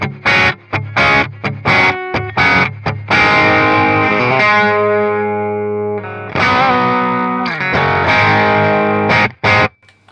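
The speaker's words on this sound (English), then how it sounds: "This is my initial starting clean tone." Electric guitar played through a D.Effects DE02 Traveller hand-built distortion pedal, loud choppy strummed chords with sharp stops alternating with sustained ringing notes, gritty and bright, with no talking.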